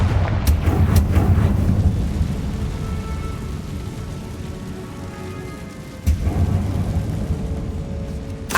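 Confringo fire spell blasts in Hogwarts Legacy: heavy, rumbling explosive bursts that hit loud at the start and again later, over a constant crackling, roaring background.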